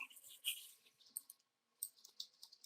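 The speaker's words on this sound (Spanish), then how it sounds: "Haremos clic en la pestaña Relación de atributo" Computer mouse clicking during software work, a handful of faint, sharp clicks in two quick clusters separated by a brief silent pause, with no voices.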